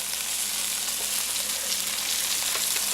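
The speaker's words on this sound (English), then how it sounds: "when you saute, you can use butter or oil" Food sizzling as it sautés in butter in a pan, a dense, steady crackling hiss close by with no talking.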